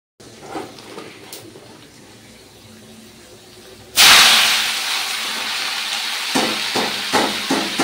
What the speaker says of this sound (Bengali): তারপর এখানে তেলের উপরে শুকনো লঙ্কা আর পাঁচফোড়ন দিয়ে আমি এখন লাল শাকটা ভেজে নেব।